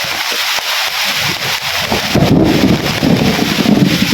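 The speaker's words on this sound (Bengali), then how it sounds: "প্রচুর পরিমাণে টাটা পড়তেছে একটু পরে পরে টাটা আর বৃষ্টি তো আছে" A heavy rainstorm with frequent lightning strikes pours down in a steady loud hiss, and thunder rumbles in from nearby partway through. Wind buffets the microphone.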